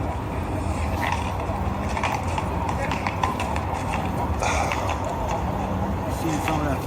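Hooves of a carriage horse clip-clop in a steady rhythm, mixed into a busy park soundscape with people talking throughout.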